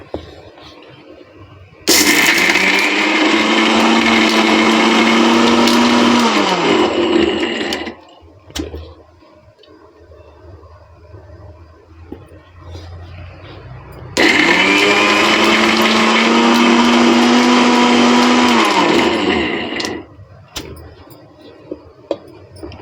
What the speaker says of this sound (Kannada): ಎಲ್ಲದೂ ಹಾಕ್ಕೊಂಡಿದ್ದೀನಿ, ಮಿಕ್ಸಿ ಮಾಡ್ತಾಯಿದ್ದೀನಿ ಈಗ.